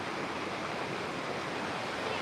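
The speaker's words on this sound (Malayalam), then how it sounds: "അപ്പോൾ അതിങ്ങനെ ഒഴുകി മറിയുന്നൊരു കാഴ്ച" Rain-swollen water rushes and tumbles through a canal after several days of rain, a steady, dense wash of noise with no pauses, close and continuous throughout.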